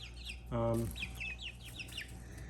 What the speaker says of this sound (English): the black copper Marin over there is a rooster, not a hen